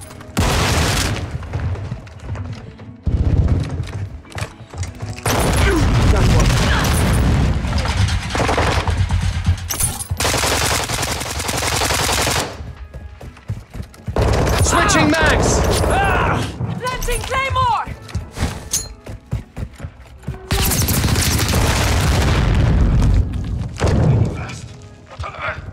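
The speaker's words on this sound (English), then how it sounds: "Throw a grenade!" Grenade explosions and bursts of automatic gunfire fill a Call of Duty Warzone match: heavy, loud, near blasts and rattling volleys come in repeated waves with short lulls, while people shout over the din.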